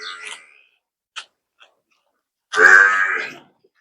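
Tied-up cattle on a farm give one loud, close moo of about a second. Before it come a few faint, brief rustles and clicks in near silence.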